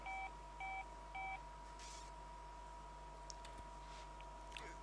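Three short dual-tone dialing beeps sound in quick, even succession from a phone in the video game Saints Row The Third, followed by a quiet stretch with faint clicks and ticks.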